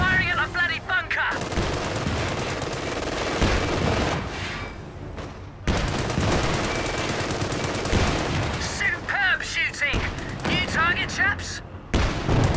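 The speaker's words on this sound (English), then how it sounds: "Firing at the bloody bunker!" Bursts of machine-gun and rifle fire from the Company of Heroes battle game, repeated rapid volleys and sharp cracks with heavy booms, loud and close, mixed with soldiers' shouted voice lines.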